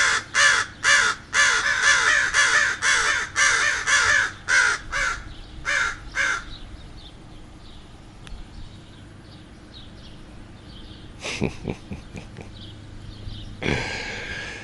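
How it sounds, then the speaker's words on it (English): Several crows caw loudly in a rapid series, then fall quiet, with a few more harsh caws and rustling toward the end. "these crows, who probably got fledglings out here"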